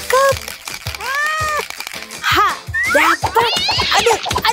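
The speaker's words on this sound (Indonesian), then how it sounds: "Sini, keluar kamu kucing." A cat gives several rising and falling meows, close and fairly loud, mixed with excited voices and giggling around it.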